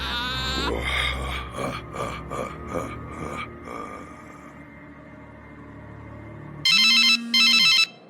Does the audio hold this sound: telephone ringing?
yes